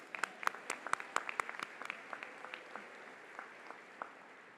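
Scattered, fairly faint clapping from a commencement audience at Clayton State University for graduates, with distinct individual claps at first that thin out into sporadic hand claps.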